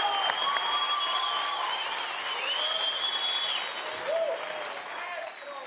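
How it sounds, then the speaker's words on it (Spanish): Audience applause at a Spanish-language comedy show, a steady wash of clapping from a crowd that stays fairly even throughout, with voices and whistly tones mixed in above it. "Un aplauso."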